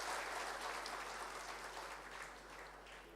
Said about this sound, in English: Please join me giving him a big round of applause for his graciousness